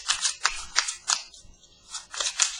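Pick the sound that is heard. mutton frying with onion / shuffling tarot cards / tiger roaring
shuffling tarot cards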